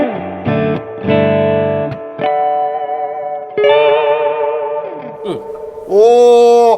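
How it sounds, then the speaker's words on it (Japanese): Clean electric guitar notes and chords ring out through an amp with noticeable reverb, each strum trailing a shimmering decay; loud and close. "リバーブちょっと足してみますね"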